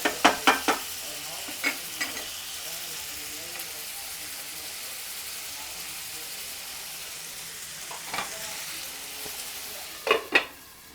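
Onion palya cooking in a covered pan, a soft steady sizzle throughout, with a few clinks and scrapes of utensils at the start and again near the end.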